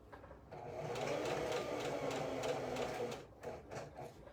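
A sewing machine stitches a dress seam just inside a 3/8 inch allowance in steady close bursts, running for about three seconds, then slowing to a few short stitches.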